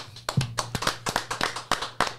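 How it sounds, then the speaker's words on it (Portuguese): A small group on a podcast set claps in an uneven rhythm, about a dozen distinct claps over a couple of seconds, close and fairly sparse with no voices. "salva de palmas"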